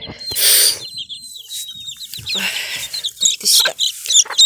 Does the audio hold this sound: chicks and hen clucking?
yes